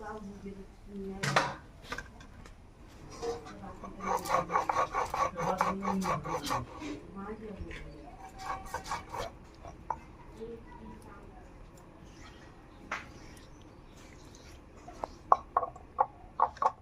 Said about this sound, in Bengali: এখানে পোস্ত আর সর্ষেটা বেটে নেব।